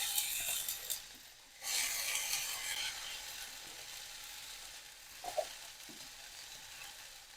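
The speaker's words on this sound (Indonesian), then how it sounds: "bawang merah dan bawang putihnya, kita tumis dulu ya" Shallots and garlic sauté in a hot wok over a village kitchen fire, a steady loud sizzle that briefly drops away, then returns with a few scrapes and clinks of stirring.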